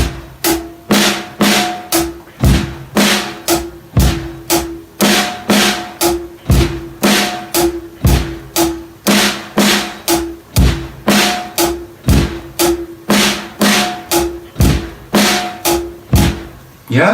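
A slow drum groove with the kick drum placed on the end of beat 3 repeats loudly and alone, with sharp hits recurring in a steady looping pattern.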